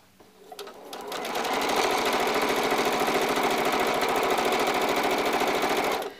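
Sewing machine stitching fabric at a normal stitch length, starting up and then running loud and steady with a fast mechanical hum and rhythmic needle chatter, close up, before stopping abruptly.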